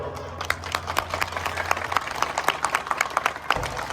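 An audience at a public lecture applauds to welcome the speaker, a dense patter of many hands clapping steadily throughout over a low background hum.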